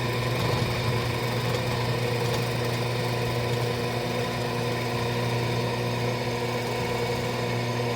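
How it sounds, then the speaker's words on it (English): Steady motor hum of a drill press running continuously while drilling a hole, with a constant mechanical whine and no talking. "I am going to basically drill a hole down through here"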